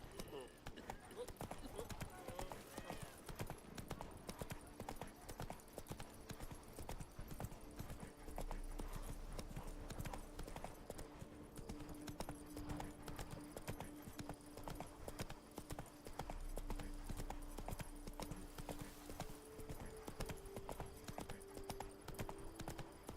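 Roach the horse gallops in The Witcher 3, with rapid steady hoofbeats continuing throughout under game music, a background hum, and occasional voices speaking.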